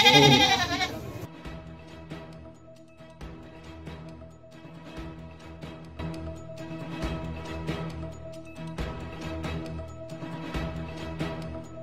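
Goats bleat repeatedly around a rural Assamese home, their wavering calls coming close together at a steady pace and carrying loud and near after a brief sharper sound at the start.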